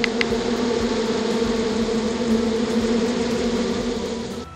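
Steady, dense buzzing of a bee swarm in a Masha and the Bear driving game, loud and continuous throughout with no voices over it.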